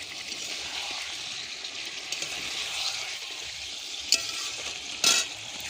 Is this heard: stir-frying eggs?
yes